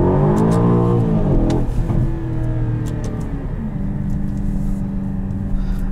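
A 2021 Aston Martin DBX, redline just under 7,000 rpm, pulls hard as its engine revs and climbs in pitch, a loud steady roar from inside the cabin with no talk.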